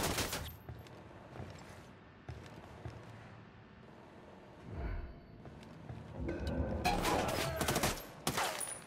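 Rapid gunfire bursts in the video game Ghost Recon Wildlands, with dense volleys crackling loudly at the start and again near the end, and a quieter stretch of scattered shots in between.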